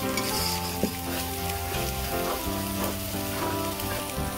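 Ginger paste and turmeric powder fry in hot oil for a chicken kacchi biryani, giving a steady, close, dense sizzle with faint stirring scrapes throughout and no talk.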